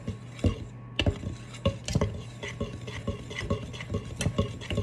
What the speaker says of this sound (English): make sure you mix it up really good